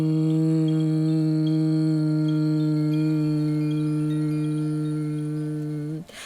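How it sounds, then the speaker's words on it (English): Sustained humming with lips pressed together during a meditation, one long steady closed-mouth tone held for about six seconds, loud and close, ending abruptly. "On the word home, lips pressed together, humming for as long as you can"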